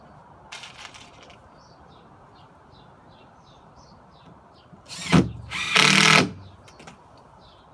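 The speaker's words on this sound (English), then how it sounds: "I'm just going to take some short screws and connect the two layers together here." Two short bursts of a power drill driving short screws into birch plywood for a skateboard quarter pipe, loud and close, with quiet background and faint bird chirps between.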